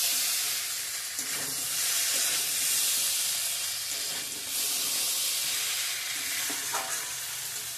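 A steady sizzle and hiss from a pan of potato and pointed gourd fried in spices, as water goes into the curry, with scraping stirs and a few brief clinks over the continuous frying noise, close up and with no talking.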